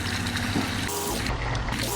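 Water splashes and gurgles as it is poured into a pan, a short steady stream up close.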